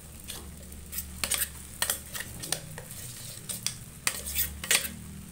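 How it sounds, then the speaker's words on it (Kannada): A spoon stirs spices and peas in a pan on low heat for a kachori sauce, with repeated scraping clinks against the metal over a soft, faint sizzle. "ಹಾಗಾಗಿ ಸಿಮ್ಮಲ್ಲೇ ಇಟ್ಕೊಂಡು ಇವನ್ನೆಲ್ಲ ಮಿಕ್ಸ್ ಮಾಡ್ಕೊಳ್ಳೋಣ"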